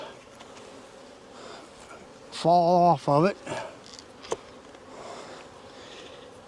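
Honey bees hum steadily at a queen cell builder hive, a soft continuous buzz under short bursts of nearby speech and a brief sharp click.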